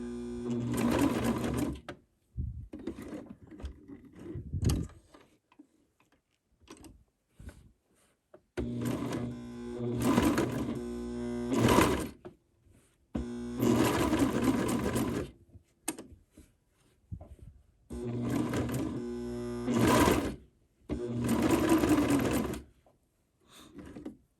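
A Brother 2340 coverstitch machine runs a reverse coverstitch in repeated bursts of rapid mechanical stitching, each lasting a few seconds, separated by quiet pauses with small clicks and handling noises.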